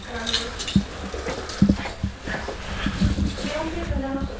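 A dog whimpers and whines in short repeated bursts near a door, close by, with people talking over it.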